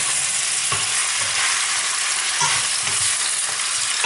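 Pork loin with peppers and soy sauce fries loudly in a pan, a dense continuous sizzle with a few soft stirring scrapes, close and without any voices.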